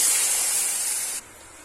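A loud burst of sizzling hiss as half a tumbler of water hits a hot pan of sautéed ingredients for thuvaiyal chutney, steady for about a second before abruptly dropping to a softer simmer.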